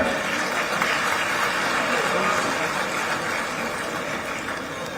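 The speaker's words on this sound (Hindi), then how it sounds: "जोरदार तालियां।" Loud, steady applause from a large crowd at an official government event marking the release of a coffee table book, with a constant dense wash of clapping and a low background rumble throughout.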